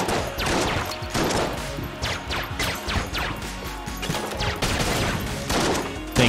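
Grenade blasts and rapid gunfire in the video game Enter the Gungeon, dense loud bursts of crashing booms and clatter piling over one another without pause.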